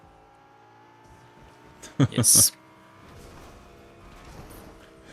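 A car, already getting dented, drives in a multiplayer elimination video game match. Its engine hums low beneath steady talk, then a sharp, loud burst of revving or crashing flares up briefly midway.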